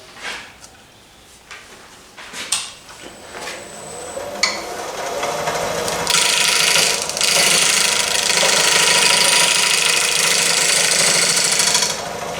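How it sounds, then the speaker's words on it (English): Round nose scraper cutting a wooden natural edge bowl turned from a tree limb on a lathe: after scattered knocks and clatter, a steady, loud broadband scraping hiss runs continuously with the motor hum underneath, no talking. "we'll do that with a round nose scraper"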